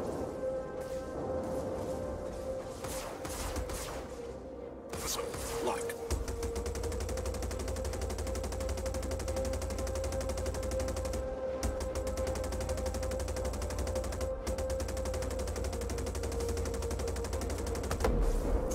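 Spaceship gunfire in the Star Citizen video game, a near-continuous loud rattle of rapid-fire shots over a steady engine hum during a space dogfight, with brief crashes near the start.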